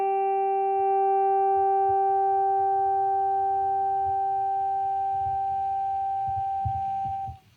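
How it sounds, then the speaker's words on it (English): A steady, pure electric guitar feedback tone on a clean sound, through a TC Electronic HyperGravity compressor pedal with sustain cranked, sustains loudly for several seconds over low rumbling noise, then cuts off abruptly at the end. "you can basically get feedback on clean sounds"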